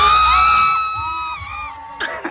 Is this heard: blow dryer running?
no